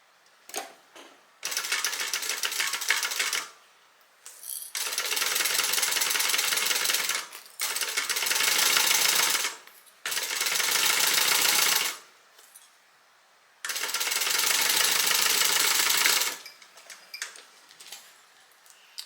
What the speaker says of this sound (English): Now I'm going to go ahead and stitch this together